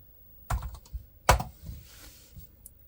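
A few separate keystrokes on an MSX home computer keyboard, with two sharper clacks standing out among softer taps, recorded close and on their own.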